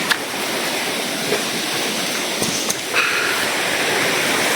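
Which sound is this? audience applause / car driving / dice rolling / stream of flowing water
stream of flowing water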